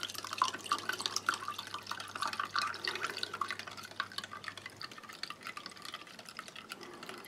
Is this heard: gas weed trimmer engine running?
no